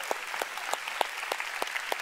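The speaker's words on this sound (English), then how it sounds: "Come on, you want to clap, give the Lord a big hand." A church congregation claps at a sermon, heard as sparse, distinct hand claps in a fairly steady rhythm over a faint hiss, moderately quiet and without talk.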